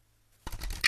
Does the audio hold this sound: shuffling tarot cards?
yes